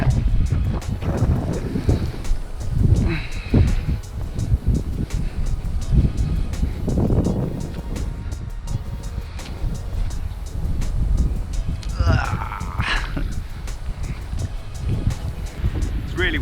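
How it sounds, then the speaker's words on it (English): Strong gusts buffet the microphone with heavy rumbling bursts at a large Yorkshire fishing pit, with occasional faint voices and water-like noises underneath. "It's really windy, I'm sure you're getting all kinds of noise there."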